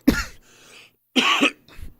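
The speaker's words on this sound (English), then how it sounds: "let's not cough into the microphone" Several harsh, close coughs come in separate bursts with short pauses between, the last one softer. No talking.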